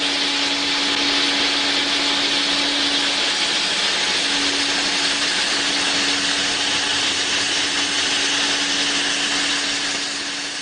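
A household vacuum cleaner runs continuously at close range, a loud, steady motor whine with a broad airy roar and a constant tonal hum. Nothing else is heard over it.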